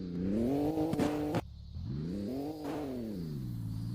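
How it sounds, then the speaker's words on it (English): An R32 car engine revs repeatedly, its pitch climbing and falling in smooth sweeps, broken by a brief drop near the start before the revving picks up again, loud and close with no voices. "The Miata driver is seemingly impressed at the R32 revving."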